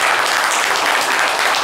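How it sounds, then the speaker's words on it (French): Brief burst of audience applause for a mother at a public event, dense steady clapping throughout. "On l'applaudit s'il vous plaît"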